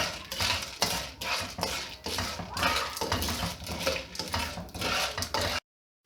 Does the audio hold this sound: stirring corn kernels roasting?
yes